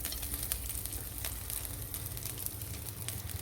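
Ghee heating in a kadai for a crab and prawn ghee roast, giving off a steady, quiet sizzle with faint crackles and small pops throughout, no voices.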